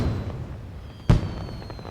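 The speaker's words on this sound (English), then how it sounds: "like aerial explosion display of fireworks" A single firework burst from an aerial display in the video game Vigor, one sharp bang with a short crackling tail over quiet ambience.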